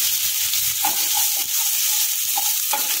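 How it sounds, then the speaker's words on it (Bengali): A spoonful of ginger garlic paste frying in a pan for pav bhaji, giving a continuous close sizzle broken by a few short clinks and scrapes as it is stirred. "এবার আমি এর মধ্যে আদা রসুনের পেস্টটা দিয়ে দেবো, খুব বেশি দেবো না, 1 চামচ মতো। এবার একটুখানি ভেজে নেবো"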